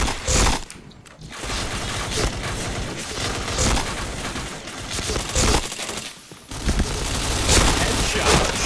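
PUBG gunfire erupts in dense automatic bursts with clanking weapon mechanics, loud and close, pausing briefly before the firing resumes and continues to the end.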